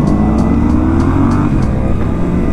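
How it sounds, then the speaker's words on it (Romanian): A motorcycle running on the Mugello racing circuit in Italy, a loud, steady engine drone with a rising pitch as it accelerates, close and continuous throughout. "Numai o motocicletă și o motocicletă la Mugello."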